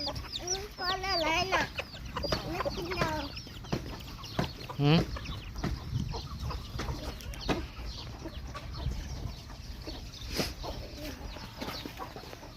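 A flock of ducks quacking nearby, many overlapping calls in a busy, uneven stream, with faint human voices mixed in.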